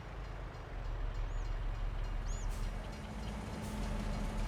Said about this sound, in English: train coming along.